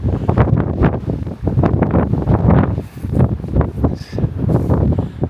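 Gusty wind buffets the microphone outdoors, producing loud, pulsing rumbles that rise and fall every half second or so throughout, with no talking.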